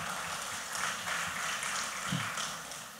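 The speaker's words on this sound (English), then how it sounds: "Let's get a round of applause for her." Steady applause from a party meeting audience for an officer elected unopposed, a continuous even patter of clapping filling the whole moment.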